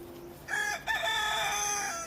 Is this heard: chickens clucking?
yes